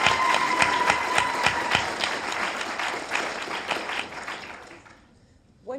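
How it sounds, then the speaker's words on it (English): Audience applause for a presenter at a science-communication competition final, a steady crowd of clapping hands that holds for about four seconds, thins out and then drops away almost to silence. "huge round of applause for Jason, please."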